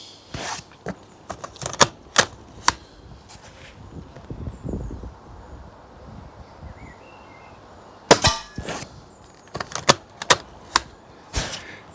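Shots from a Weihrauch HW110 grey laminate PCP air rifle, sharp dry cracks fired singly at irregular intervals, some in quick pairs, over quiet outdoor background.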